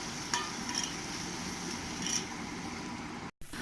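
Green chillies and garlic stirred in a pan for an anchovy fish curry, a continuous soft sizzle with a few scraping spoon strokes, close and steady with a brief break near the end.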